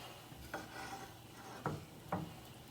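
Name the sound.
stirring melted miso mixture for salmon topping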